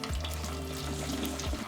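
Japanese sweet potatoes (satsumaimo) go into hot oil for a lower-temperature first fry, giving a close, steady bubbling sizzle with a low hum underneath and no talking.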